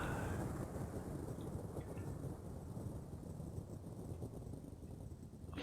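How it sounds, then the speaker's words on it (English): Rolling thunder from a video game storm, a steady low rumble with rain-like hiss that holds for several seconds at a fairly even level, with no talk over it. "Thunder and lightning."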